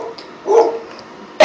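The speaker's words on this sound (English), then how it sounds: "Do you hear puppy barking?" A puppy gives a short bark or yip near the end, following a brief muffled vocal sound earlier in the quiet room.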